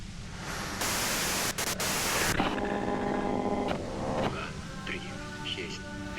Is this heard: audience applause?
no